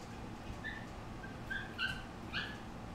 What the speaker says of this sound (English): it's a weird little bark.